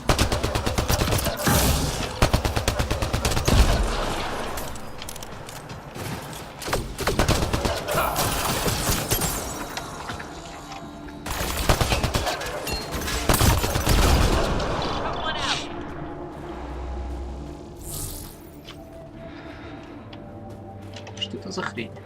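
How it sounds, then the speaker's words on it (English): Gunfire rings out in Mass Effect Andromeda as a Ket device is shot, loud bursts of shooting repeating across the stretch with game sounds and voices mixed under it. "Shooting the device will destroy it."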